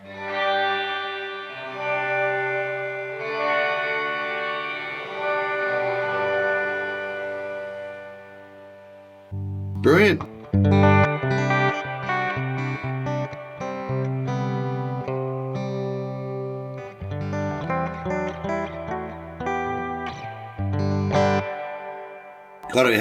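A guitar plays through a Sonicake Pocketmaster reverb pedal set fully wet with dampening off, sustained chords and picked notes washing into long lush tails, loud and continuous, with a brief spoken word near the end.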